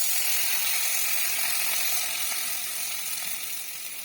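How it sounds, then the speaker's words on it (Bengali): Fish curry masala with cumin powder sizzles in a pan while being sautéed, a bright continuous hiss that fades slightly toward the end. "তার আগে জিরা পাউডার দিলাম, দিয়ে কষাচ্ছি।"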